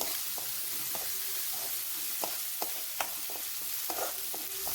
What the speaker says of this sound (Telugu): ఆ అల్లం వెల్లుల్లి పేస్ట్ పచ్చివాసన పోయేంత వరకు ఫ్రై చేసుకోండి